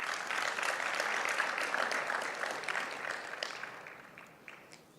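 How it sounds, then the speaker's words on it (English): Audience applause fills a conference hall at a cervical cancer elimination launch event in Kigali, Rwanda: dense, steady clapping from a large crowd that gradually thins and fades toward the end. "another round of applause to our panelists."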